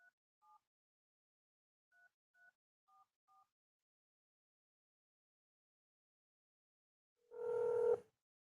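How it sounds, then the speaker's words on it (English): A telephone number is dialed with a series of short, faint DTMF keypad beeps in quick pairs, followed by a louder, longer tone near the end. "I'm going to dial her number now."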